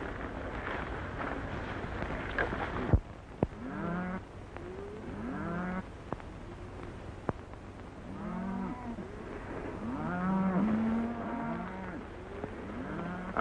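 Cattle on a western cattle drive low repeatedly in long, drawn-out moos, several animals calling at moderate distance across an open outdoor setting after a brief earlier stretch of noise.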